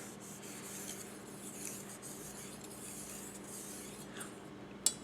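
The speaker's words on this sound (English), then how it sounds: "As you can see, I like to do combinations of section sharpening and then sweeps to blend it all together." A knife is sharpened on a Naniwa 8000 grit Snow White water stone, giving faint, continuous soft scraping strokes up close, ending with a small metallic clink.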